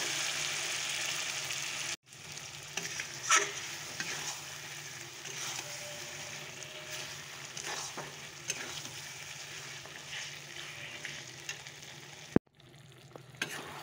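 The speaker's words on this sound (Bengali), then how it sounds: "মাটনটাকে এখন কষানো হচ্ছে।" Marinated mutton with onion is sautéed in a pan, a low steady sizzle with occasional scrapes and knocks of a stirring utensil and a couple of abrupt clunks; no talking.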